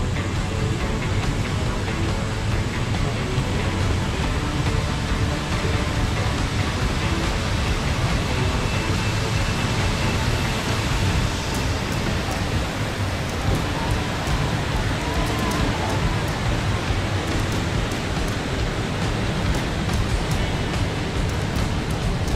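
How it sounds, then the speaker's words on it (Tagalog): Water splashing steadily from a large fountain with a waterfall at the Manila Peninsula hotel, a dense, continuous wash of falling water heard close and loud throughout, with no voices over it. "At ito yung napakagandang waterfalls, water fountain."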